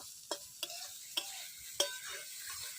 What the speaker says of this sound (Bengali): মূলা ঘন্ট আজকে ভাজি করব